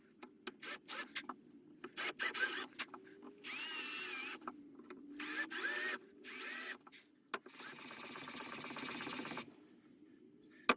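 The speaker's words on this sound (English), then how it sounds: "I'm going to look for a 4mm drill and just tidy out some of the insides" A 4mm drill bit cleans out holes in a mahogany guitar neck, giving repeated short bursts of whirring and grinding with pauses between them and then a longer steady run, close and moderately loud.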